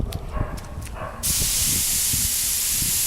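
Cheap spray gun spraying acetone through during Yamaha RZ350 tank and parts restoration: a few soft clicks and handling noises, then a sudden loud, steady hiss of spray that continues to the end.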